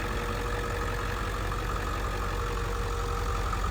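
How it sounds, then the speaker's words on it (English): A 2002 Ford Excursion Limited 4x4 with the 7.3L diesel V8 idles steadily up close, a continuous low, even rumble with a faint ticking texture and no voices. "healthy engine, 0 blow-by."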